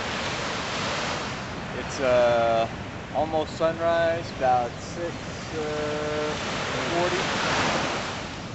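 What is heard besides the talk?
Pacific Ocean waves at sunrise, Hawaii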